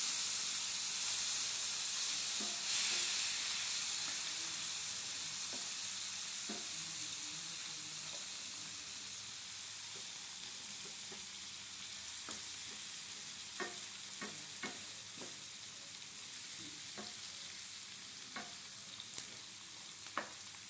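Ginger garlic paste with a green chilli frying in a pan for chicken macaroni, heard as a steady bright hiss and sizzle with occasional soft scrapes and taps of stirring, close by and without talk.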